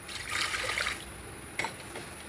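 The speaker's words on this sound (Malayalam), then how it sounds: "അപ്പം കുക്കറിൽ നമുക്ക് ആദ്യം തന്നെ വെള്ളം ഒഴിക്കാൻ വെച്ച്." Water is poured into a pressure cooker while cooking lentils for an Onam meal, a loud trickling stream for about a second, then quieter dribbles and a brief knock.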